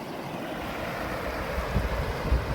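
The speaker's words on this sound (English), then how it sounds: "this is quite a bit of a bigger river than where I live now. It has loads of little waterfalls" A river with many little waterfalls flows in open countryside, a steady broadband rushing wash with some low wind-like rumble, continuous and fairly close.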